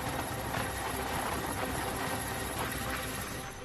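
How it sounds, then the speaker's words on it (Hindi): An Indian Air Force helicopter's rotor and engine roar steadily and loudly for several seconds, a dense continuous whir in mountainous terrain with no speech. "ये हेलीकॉप्टर पहाड़ों के बीच खुले मैदान पर आसानी से उतर जाते हैं।"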